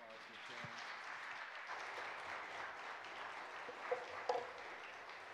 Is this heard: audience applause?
yes